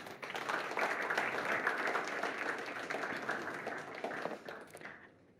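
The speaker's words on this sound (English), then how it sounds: "with a huge round of applause" An audience at a panel discussion breaks into sustained clapping to welcome a guest, a dense patter of many hands that holds steady for several seconds before tapering off at the end.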